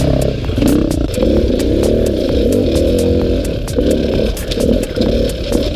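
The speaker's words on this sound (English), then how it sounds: "I'm doing a lot of second gear and slipping the clutch here, just so she doesn't spin out." An enduro motorcycle held in second gear on a single-track trail, clutch slipped so its revs rise and fall in a loud, continuous, buzzing drone close by, with occasional clatter from the bike.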